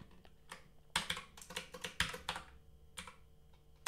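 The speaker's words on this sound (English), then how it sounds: "Come on, I'm still struggling with my new keyboard here." Rapid clicking keystrokes on a new computer keyboard, a steady run of close, crisp taps with brief pauses and a few heavier presses, and no talk over them.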